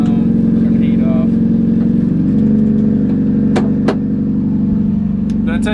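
A carbureted Mazda Miata engine runs loud and close with a steady rumble that rises slightly in a mild rev, while a person talks over it.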